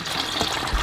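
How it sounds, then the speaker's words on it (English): Engine oil pours from a Subaru BRZ oil pan as a brief, steady, hissing gush of liquid close by. "Oil's about to come out there."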